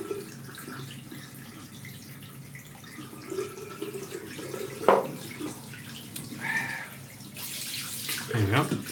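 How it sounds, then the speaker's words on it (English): Water running from a tap while waiting for hot water before a classic wet shave, a continuous hiss and splash under muffled voices in the room, with a few louder knocks and clatters near the end. "I'm waiting for the hot water to come through"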